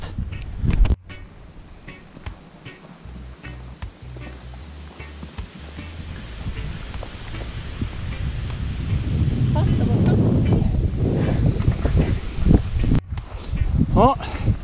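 Blustery wind buffets the microphone on a gravel road climbing uphill, a rough continuous roar that swells louder in the second half, with some movement and rustling beneath it.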